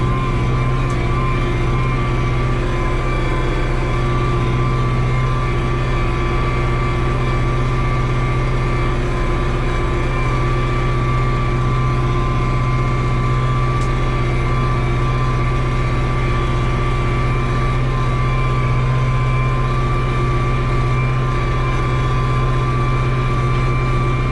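A Lamborghini 105 tractor engine drones steadily and loudly while driving across a field during disc harrowing, a constant low throbbing hum with no change in pace.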